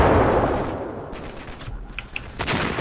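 RPK machine gun firing in the video game Ravenfield, a dense burst of rapid shots at the start that trails off into scattered distant gunfire and booms.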